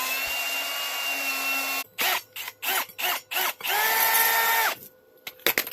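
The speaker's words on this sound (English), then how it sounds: "Turn your drill down to the slowest setting that you can, and just take it nice and easy, nice and slow" A drill runs steadily, then stops and starts in several short bursts before one longer pass, an oiled bit boring slowly into metal bolts at the lowest speed for a forge work stand; close and fairly loud with no talk.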